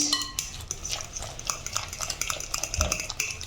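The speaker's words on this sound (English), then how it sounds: "we're going to give this a stir like that until it is well combined" A breakfast mixture stirred in a bowl with a utensil, giving a steady run of soft scraping and light clinking taps against the bowl, close and moderately quiet, with no talking.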